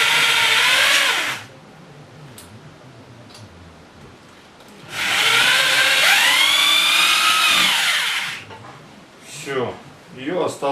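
A power drill drives two 50 mm self-tapping screws into a wall to fix a bracket while a stove-fireplace is installed. Two loud, close whining bursts rise in pitch, separated by a quiet pause, and brief talk follows at the end.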